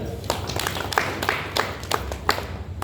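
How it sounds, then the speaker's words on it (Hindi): Scattered hand claps for a child in a classroom lesson, several irregular claps over a steady background murmur of voices. "ताली बजाओ बच्चे के लिए।"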